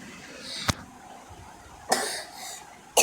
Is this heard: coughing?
yes